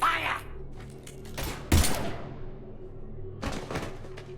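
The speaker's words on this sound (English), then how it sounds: "Now open fire!" Gunfire in Mass Effect Legendary Edition, scattered sharp shots and a heavier burst mid-way, then another cluster of shots near the end, over a low steady hum of background music.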